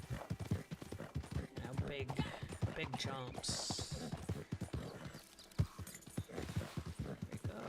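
In Red Dead Online, a horse's hooves clip-clop in a quick steady rhythm over rocky prairie ground, close and fairly quiet, while someone talks over the hoofbeats.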